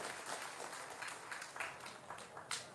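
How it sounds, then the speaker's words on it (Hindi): An audience claps in applause at a spoken gathering, a soft, dense patter of many hands heard from a distance at low volume, continuing evenly for a few seconds without voices. "ताली बजा दीजिए"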